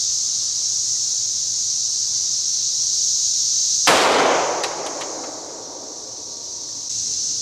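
A single sharp gunshot from a Glock 22 .40 S&W handgun with a 4.5-inch barrel, fired at a gel block during ammunition testing, loud and close, with a brief ringing decay over a steady high insect-like hiss.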